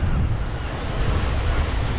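Strong wind buffets a microphone on the sea coast during lure fishing, a loud continuous low rumble with the wash of surf beneath it, no voices.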